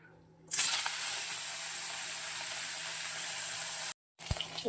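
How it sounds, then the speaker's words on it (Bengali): Hilsa fish head dropped into hot oil in a wok, giving a loud, steady hiss and sizzle that starts abruptly after a brief quiet moment and runs on, with a short break near the end. "কড়াইয়ের মধ্যে দেখো ইলিশ মাছের মাথাটা দিয়ে দিয়েছি এটা ভেজে নেব"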